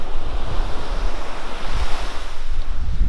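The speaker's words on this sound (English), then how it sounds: "we're at the beach" Surf breaks steadily on a windy, partly cloudy beach while gusts buffet the microphone, making a continuous loud roar of waves and wind with no voices.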